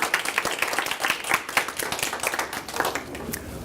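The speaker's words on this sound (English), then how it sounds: "So let's all give him a round of applause." A classroom audience claps for a guest speaker giving a presentation on traffic safety, a steady, moderately close patter of many hands lasting the whole stretch.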